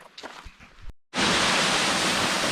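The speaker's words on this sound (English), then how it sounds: "I can hear the water rushing" Rushing water of Window Falls at Hanging Rock State Park, North Carolina: after a brief pause, a loud, steady wash of falling water fills the space, preceded by faint footsteps and movement.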